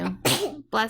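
A single person sneezes up close, with a quick sharp intake of breath followed by a loud burst and a short trailing exhale, indoors in a quiet room.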